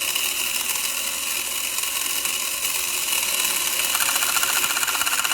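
Gear set and drive pinion of an Electron Robot toy whirring and clicking as it runs, a close, continuous buzzing mechanical rattle that steps up slightly in pitch near the end.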